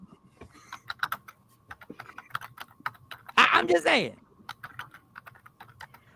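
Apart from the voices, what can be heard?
typing on a computer keyboard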